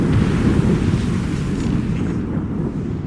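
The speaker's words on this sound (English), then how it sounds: "Cannon fire. Deep within the fog." Distant cannon fire rolling through thick fog at sea in Assassin's Creed Rogue, heard as a heavy, continuous low rumble that holds steady and fades slightly at the end.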